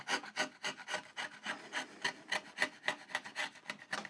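A hand chisel pares wood slowly to cut a rebate, giving repeated quiet scraping strokes in an even rhythm, close up with no talking.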